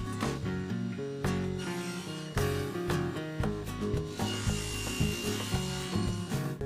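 Repeated rasping saw strokes cut through a clamped block of white oak, with the blade set to material thickness, in a steady rhythmic back-and-forth, loud and close.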